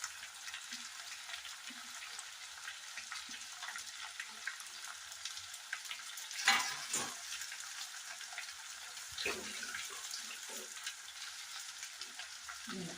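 Ivy gourd fries in a pan for a Kerala-style thoran, giving a steady, soft sizzle with a few louder stirring scrapes and clatters partway through. No one speaks.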